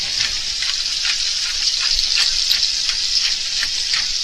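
Tilapia fillet seasoned with lemon and pepper fries in a hot pan, giving a steady, bright, close crackling sizzle with no pauses and no talking.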